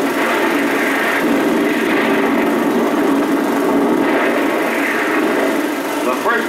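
WWII amphibious tractors and landing boats carrying the first wave of Marines toward shore, a continuous droning engine roar with broadband rushing noise, steady and loud throughout with no voices.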